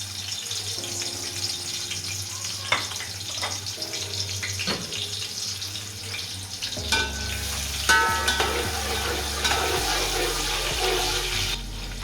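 Onions frying in hot oil for a chicken biryani, with a continuous close sizzle, occasional clatters, and a low hum in the background, without talking.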